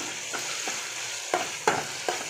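Spices crackle in hot oil in a clay pot as a tempering of onion, tomato, dried chili and cumin is made, with short bursts of sizzling and a few sharp stirring clicks over a soft steady hiss.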